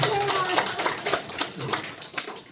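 Scattered, uneven claps from a church audience during a Wednesday evening service, a brief patter of hand claps with a faint voice in the background.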